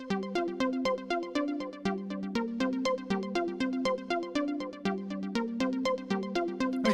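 Simple 12-step synth sequence patched in VCV Rack, a looping run of bright, plucky notes repeating at an even, quick pulse, loud and alone with no talking.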